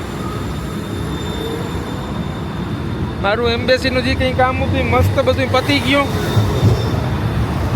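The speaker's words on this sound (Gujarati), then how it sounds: "જો ટ્રેન જાય" A train rolls past nearby, its rumble swelling into a few seconds of high squealing, ringing wheel tones before easing off, while someone talks over it throughout.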